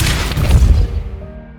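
Depulso spell cast in Hogwarts Legacy, a loud booming blast with a heavy low-end rumble that rolls on, then decays and fades toward the end.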